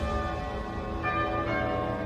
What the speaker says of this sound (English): wedding bells.